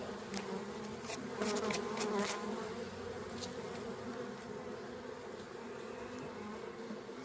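A steady, close hum of many buzzing honey bees at a hive box, continuous and fairly quiet throughout, with a few brief louder passes.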